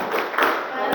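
A classroom of twelfth-grade pupils does a rhythmic clapping ice-breaker, tepuk fokus: quick hand claps blended with chanting voices, close and fairly loud over one short second.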